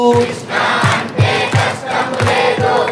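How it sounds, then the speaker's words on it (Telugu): An audience at a religious discourse claps along in steady rhythmic beats while chanting Krishna's name, loud and close, with a dense wash of many voices and hands filling the space. "ఇప్పుడు చప్పట్లు కొడుతూ కృష్ణ అంటే కష్టము లేదు,"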